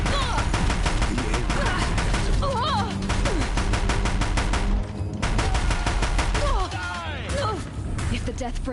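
Deathbringer machines in Horizon Zero Dawn firing loud, rapid bursts of machine-gun fire, continuous and close over the whole stretch, with brief gaps and whooshing, screeching battle effects woven through.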